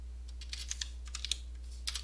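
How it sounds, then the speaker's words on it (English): Quick, irregular clicks of keys being typed on a computer keyboard, soft and close, with no talking. "Having a bit of trouble typing here."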